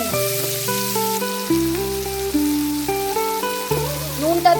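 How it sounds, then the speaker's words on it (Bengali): Chopped onions fry in a pan for green banana kofta, giving a steady sizzle that runs beneath prominent background music. "পেঁয়াজটা খুব ভালো করে ভাজা হয়ে যাবে"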